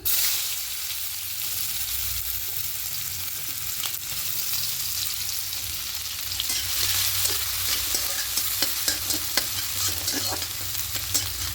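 Chopped onion frying in white oil with whole cumin seeds for healthy oats tikki, a steady close sizzle broken by scraping stirs that sharpen into clicks toward the end.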